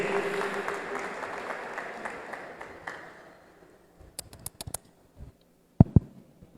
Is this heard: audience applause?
yes